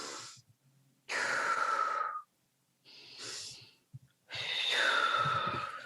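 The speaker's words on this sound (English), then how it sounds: "in through the nose, out through the mouth." Wim Hof style breathing by a single person, in through the nose and out through the mouth: a few close, forceful breaths, sharp rushing inhales alternating with long whooshing exhales, separated by brief pauses.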